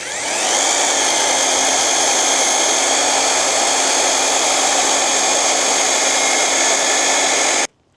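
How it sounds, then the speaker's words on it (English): Running in reverse, a two-speed handheld drill lowers an Eazy Rizer motorcycle lift holding a Royal Enfield Meteor: one loud, unbroken high whine for about seven seconds, then a sudden stop, with no voices. "Reverse the drill."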